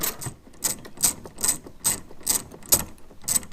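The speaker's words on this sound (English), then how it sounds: "you'll have to take these two bolts nuts off in order to pull this assembly out" A ratchet with an 8mm socket removes the nuts holding a VW Golf R hatch light, giving about eight evenly spaced ratcheting clicks, close and crisp, with no voices.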